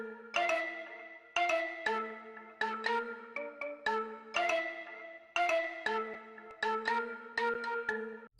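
Two layered flute parts and a mallet one-shot play together in a bouncy, spacious melody of short repeating phrases with crisp plucked attacks, clear and alone.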